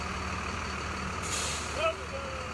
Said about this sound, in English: Buses pulled up to NBT Bank Stadium.